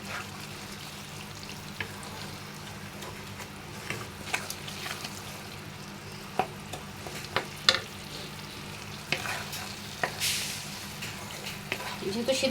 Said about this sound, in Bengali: একটু খানিকক্ষণ সময় নিয়ে এটাকে আমি কি কষাবো।